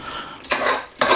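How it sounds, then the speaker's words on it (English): A utensil stirs softened onions in a cooking pot for lamb korahi. Two or three close scraping, clattering strokes against the pot sound over a low sizzle. "Okay, now I'm going to give it a stir."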